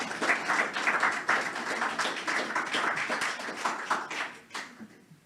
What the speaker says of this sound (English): Yes, you can clap him.